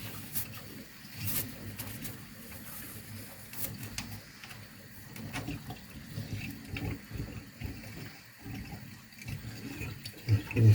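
Water drains from a household combi boiler and radiator heating system, a steady trickling and splashing flow with uneven surges that runs alone through the whole stretch.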